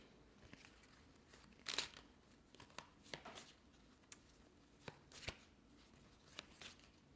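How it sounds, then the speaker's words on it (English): Quiet, close riffling and snapping of a deck of cards for the DOOM board game, coming in irregular bursts with soft handling noises between them. "I pretty much need to shuffle the rest of the deck"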